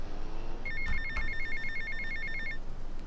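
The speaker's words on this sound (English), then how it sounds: "pass the mission while the phone call is ringing" A telephone rings in a video game, a steady electronic ring pattern of rapid repeated pulses over faint background noise, with a couple of soft thumps partway through.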